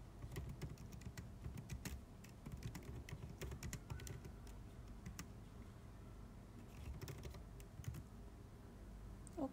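Rapid typing on a computer keyboard, with dense uneven clusters of close, crisp key clicks running without pause for about ten seconds and no talking.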